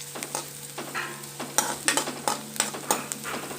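Carrots stir-fried in a pan for veg momos manchurian, a steady sizzle of oil broken by sharp, irregular scrapes and clacks of a spatula tossing the pieces, close and fairly loud with no voices.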